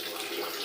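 Water gushes steadily from a tap, a continuous close hiss and splash with no break, as supply finally returns in a home on Gudi Padwa.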